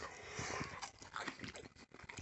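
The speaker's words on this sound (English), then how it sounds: "lovely crunch to the toast now" Crunchy toast topped with melted cheese, made in a Ninja Foodi Max health grill and air fryer, gets bitten and chewed up close, giving a run of crisp crackling crunches with no talking.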